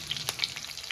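Cumin and chili sizzling in hot oil in a pan, a steady close crackle with brief brighter spits and pops throughout.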